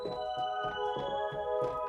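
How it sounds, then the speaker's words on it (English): Twinkle Pad preset from the slow synth section of a Triton synthesizer: soft sustained chord tones with faint, shimmering sparkle accents pulsing gently over about two seconds at low volume. "in Triton, I'm just gonna go ahead and use this thing called Twinkle Pad"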